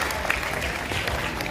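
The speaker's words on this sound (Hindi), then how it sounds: "आप सभी लोग अपनी तालियों से इनका अभिनंदन अवश्य करें।" Brief burst of crowd applause welcoming guests at a Shrimad Bhagwat Katha religious gathering in Karnal, many hands clapping steadily over a short stretch.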